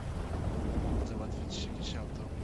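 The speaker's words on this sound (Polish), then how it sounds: "Co to za grzmoty?" Thunder rolls through a storm as a continuous loud, deep rumble, with a few sharper high crackles partway through.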